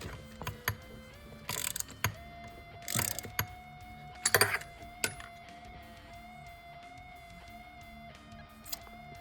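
A hand ratchet tightens a fitting during a catch can install on a 2022-2023 Subaru WRX, giving quiet, close clicking in short irregular bursts against a low steady hum.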